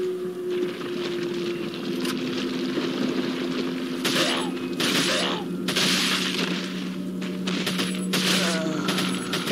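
TMP submachine gun firing in Resident Evil 4, bursts of rapid automatic gunfire starting midway and repeating several times, with mechanical clatter and a steady game hum underneath.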